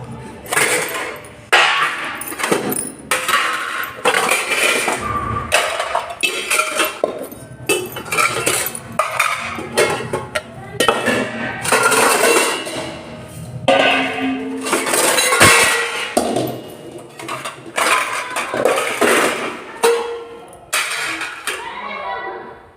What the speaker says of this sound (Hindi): अब मैं ये बर्तन सेट कर देती हूँ जाल में।